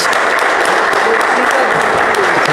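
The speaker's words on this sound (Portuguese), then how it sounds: "O Senhor Jesus merece uma linda salva de palmas" A church congregation gives a lively round of applause during a worship service, dense steady clapping from many people filling the room, with voices faintly underneath.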